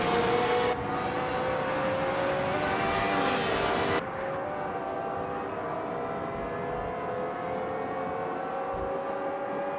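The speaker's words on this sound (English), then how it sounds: "race is kicking off at Spa, with the classic F1 1967 cars" Classic 1967 Formula One cars, including a Brabham, racing at Spa in a racing video game, with a loud high engine whine that drops suddenly midway to a steadier, lower drone of cars running on.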